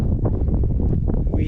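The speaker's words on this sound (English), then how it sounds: "It's been quite windy" Strong wind buffets the microphone on a hiking trail, a loud, close, continuous low rumble with irregular gusting bursts and no clear other sounds.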